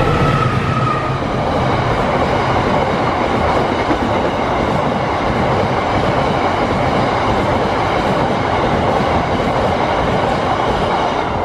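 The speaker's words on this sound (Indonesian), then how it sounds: "Ini kereta api semen." A cement freight train on Indonesian track near Klaten Station roars past close by, a loud, steady rumble of wheels and cars with no gaps and no voices.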